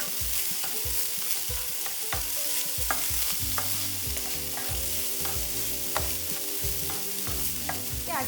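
Lemon cilantro rice frying in a pan, a steady sizzle with a spoon scraping and stirring in quick, repeated strokes close by, no voices.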